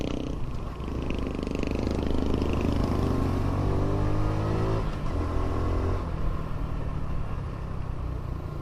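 A small fuel-injected XRM motorcycle engine runs close by, a steady buzzing drone that rises in pitch as it revs, then settles back down, with no voices.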